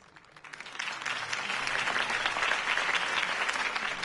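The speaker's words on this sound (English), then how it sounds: "could have heard that applause" Steady applause from a crowd at a mayoral campaign speech swells in after a brief quiet start and holds at full strength, dense overlapping claps with no talking.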